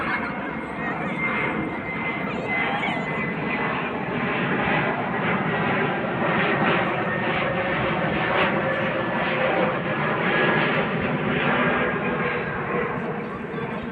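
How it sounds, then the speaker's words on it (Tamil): A passenger airplane passes overhead in London, giving a sustained, loud jet roar that swells and holds over fourteen seconds, with a person talking faintly beneath it. "மறுபடியும் இன்னொரு ஃப்ளைட்டு வருதுங்க"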